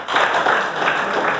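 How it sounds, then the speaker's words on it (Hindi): A classroom audience claps loudly in a dense, steady wash that lasts about a second and a half. The sound is close and continuous, with no speech over it. "जोरदार तालियां।"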